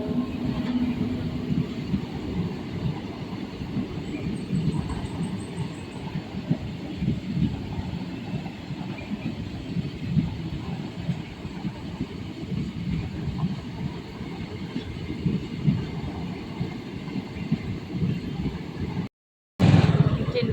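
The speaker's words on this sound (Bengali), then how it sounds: "ট্রেন বাবাজি ঢুকছে, দেখো।" A train comes through a level crossing with the gates down, giving a steady, loud low rumble that lasts throughout, with people talking nearby and a brief dropout near the end.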